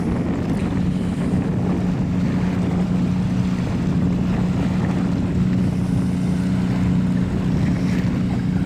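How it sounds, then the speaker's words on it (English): Wind buffets a boat at sea in a steady, loud, low roar that continues without a break, with no talking. "the wind's not really helpful today"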